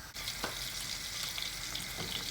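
Oil sizzles and crackles steadily in a pan on a hot stove beside a pot of soup coming to the boil, a dense close hiss with a few brief pops and no talking.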